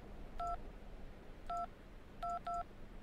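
Telephone keypad tones from the Syberia 2 video game, four short dialing beeps in an uneven pattern, clear and close over a faint background hum.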